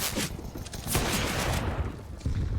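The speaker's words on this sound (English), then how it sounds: "Pistol bullets whizzing through." Dense pistol gunfire rattles through a CS:GO pro match on the Vertigo map, rapid overlapping shots and bullet whizzes forming a continuous, loud burst of fire with no voices.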